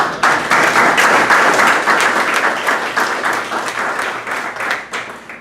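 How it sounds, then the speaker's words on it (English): Applause at a school board of education meeting, given for the maintenance and custodial staff: a dense burst of clapping from a room of people, steady for several seconds before thinning and tapering off at the end. "So just want to give a really round of applause for the maintenance staff, the custodial staff"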